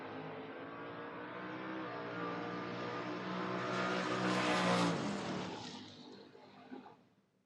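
Drag race cars, including a Camaro, launch at a drag strip with a loud sustained engine roar that swells to a peak and then fades as they pull away; no talk.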